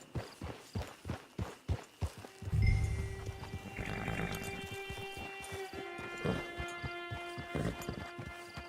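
A horse in the video game Red Dead Online, with steady clip-clop hoof steps walking along, then the horse stopping amid a low rumble and ambient game sounds, fairly close.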